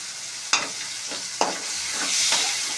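Curry leaves sizzle in hot oil while tomato rasam is being made, a steady bright frying hiss broken by a few sharp crackling bursts as the leaves hit the oil, close up with no talk.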